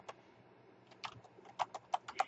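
A computer keyboard is typed on in quick, uneven bursts of sharp clicks, close and fairly quiet, growing busier toward the end, with no talk over it.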